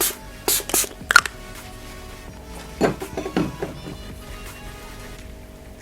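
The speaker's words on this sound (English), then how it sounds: "I'm gonna finish off this look with some setting spray. I'm taking my Kiki Beauty Rose Dew." Kiki Beauty Rose Dew setting spray is spritzed onto a made-up face in a few short, sharp hissing bursts, two close together early, then a later pair, with quiet pauses between.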